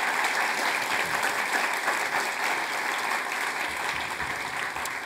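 Audience at a festival conversation event clapping steadily for the President of the Tibetan Administration, a dense sustained round of applause from a crowd in a hall.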